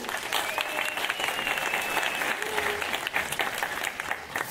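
Audience applauding at a Slovak podcast awards ceremony, a steady dense clapping from a large crowd that holds at an even level throughout, with no voice over it.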